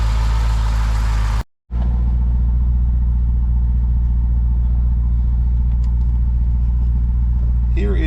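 A 1994 Chevrolet Corvette ZR1 sits idling to warm up before an oil change, its engine producing a close, steady low rumble that continues evenly after a brief cut in the sound.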